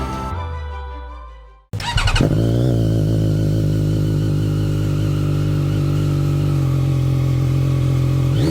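ZXMOTO 820RR three-cylinder superbike fires up after a brief mechanical lead-in, then idles loudly and steadily close by, with a droning engine note and some whine, no voices.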